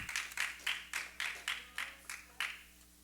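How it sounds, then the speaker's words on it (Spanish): Rhythmic clapping from a church congregation, eight or nine sharp claps in a steady tempo, fairly close and clear, with no voices over the hands. "Dale palmas al Señor."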